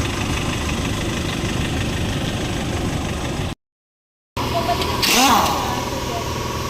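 Condenser fan motor of a Nissan NV350 van running noisily and weakly, a steady droning whir with engine idle underneath, interrupted by a brief silent gap and followed by a short rattling burst.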